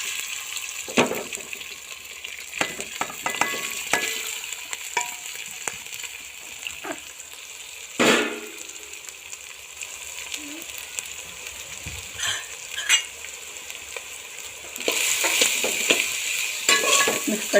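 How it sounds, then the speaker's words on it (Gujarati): Boiled rice being stirred into hot ghee with popped cumin seeds and asafoetida in a pan gives a continuous close sizzle, with repeated scraping stirs and a louder hiss near the end. "આપણે હવે રાઈસ નાખી દઈશું અંદર."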